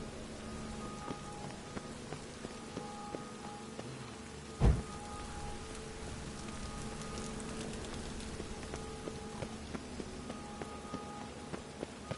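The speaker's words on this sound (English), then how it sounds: "Rain again." Rain in a PS4 video game falls as a steady hiss of drops, with faint game tones and a sharp thud-like burst partway through.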